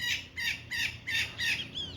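A bird in the Monteverde forest calls in a steady series of about five loud, squawky notes spaced roughly half a second apart, close by, over a soft low background hum.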